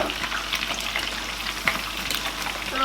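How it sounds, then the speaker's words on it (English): Meat sizzles steadily in a hot pan with a continuous crackling hiss, punctuated by occasional sharp pops and the scrape of stirring. "now I am done frying my meat"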